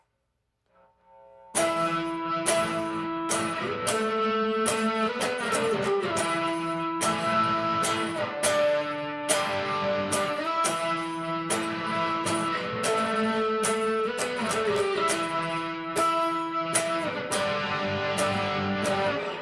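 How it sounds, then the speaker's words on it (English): Electric guitar plays the chorus melody of a song in octaves, a steady stream of bright doubled notes with rhythmic strummed accents, loud and continuous with no talking. "that same melody, but he's using octaves to play it now."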